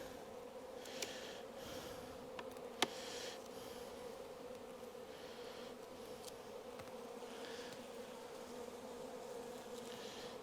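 Honeybees swarm around an open hive in an orchard apiary, making a steady, close buzzing hum that carries through the whole stretch, with a few faint clicks on top.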